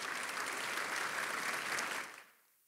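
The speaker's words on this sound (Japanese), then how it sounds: "今一度盛大な拍手をお送りください" Applause fills a coming-of-age ceremony hall in Nagasaki, a dense, sustained clapping from a large audience that holds steady for about two seconds and then fades quickly to quiet.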